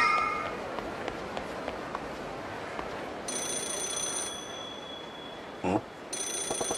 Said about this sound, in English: Is that a phone ringing? Yeah, it is. Looks like it's that payphone.